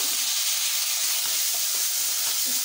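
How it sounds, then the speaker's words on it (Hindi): Chopped tomatoes hit hot oil with frying garlic for a Rajasthani radish and tomato chutney, giving a loud, dense, steady sizzle and hiss with faint stirring clicks underneath. "और अब हम डाल रहे हैं 2 टमाटर कटे हुए"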